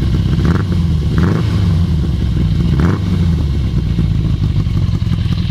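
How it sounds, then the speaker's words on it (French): A Yamaha FZX motorcycle idles close by with a steady, rumbling exhaust, and the throttle is blipped a few times, giving short rises in engine note. "On va mettre un petit coup d'échappement quand même. Un petit coup de gaz."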